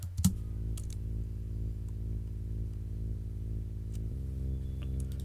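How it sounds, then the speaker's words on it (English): Simple breakdown bass line from a bootleg: a sustained, buzzy low synth tone holding steady at moderate level, shifting pitch once near the end, after a short click at the start. "Now the third bass only comes during the breaks,"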